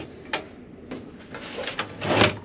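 Drawers in a cruise ship cabin closet sliding open and shut, a few sharp close knocks and rubbing scrapes spaced irregularly, the last one longer and louder.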